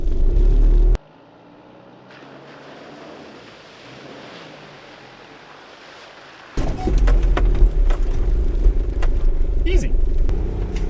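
A 4WD vehicle with diff lock engaged crawling off-road in low-range second gear on a North Cape, New Zealand track, a loud engine rumble with knocks and rattles starting abruptly after a quieter stretch, people talking over it.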